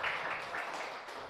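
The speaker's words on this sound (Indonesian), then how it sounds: "Oke, tepuk tangan dulu." Audience applause in a classroom following a group presentation on collective painting, a steady dense wash of clapping throughout the short burst, moderately loud with no clear individual claps standing out.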